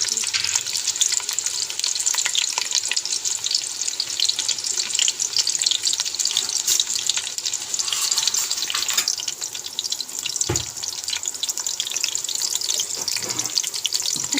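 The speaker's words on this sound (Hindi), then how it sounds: "तो हम इसमें शामिल कर लेंगे प्याज" Sliced onions fry in ghee for dal chawal, a dense, loud and steady sizzle that fills the whole stretch, with a few faint stirring noises beneath.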